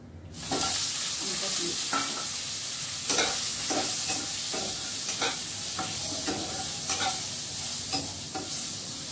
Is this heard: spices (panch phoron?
yes